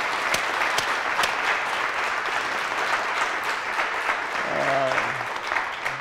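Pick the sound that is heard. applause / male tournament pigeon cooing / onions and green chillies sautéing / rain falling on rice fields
applause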